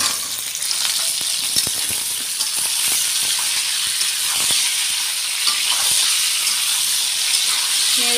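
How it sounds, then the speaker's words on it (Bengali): Cut pointed gourd pieces fry in very hot mustard oil, a loud continuous close sizzle and hiss with small crackles and occasional stirring clicks throughout. "এবার কাটা পটলগুলো দিয়ে দেবো তেলের উপর"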